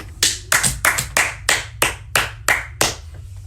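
Steady, evenly spaced hand claps, about nine sharp slaps at a brisk rhythm, applauding the youth. The claps are close and clear, with no voices over them.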